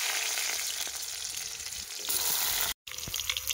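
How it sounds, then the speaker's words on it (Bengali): Potatoes fry in hot oil in a kadai wok, a steady loud crackling sizzle that fills the whole stretch, broken once by a brief dropout before resuming. "আলুগুলো ভেজে নেব আগে।"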